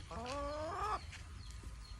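A single barnyard mixed-breed chicken lets out a drawn-out, wavering call at close range, followed by quieter clucks against a low rumbling background.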